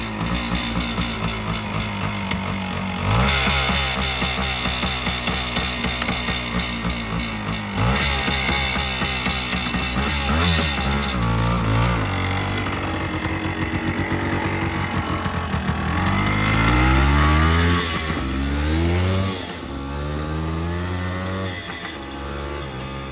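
A 1976 Suzuki MR250 Elsinore two-stroke motorcycle from a barn find fires up and revs, its loud buzzing engine rising and falling through repeated throttle blips, close and continuous without talk.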